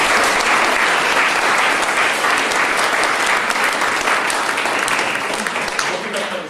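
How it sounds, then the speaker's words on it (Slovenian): At the 2005 opening of a library in Komenda, an audience gives loud, continuous applause, a thick steady clapping that fades a little near the end, with some voices mixed in. "seveda velja aplavz tudi zanj"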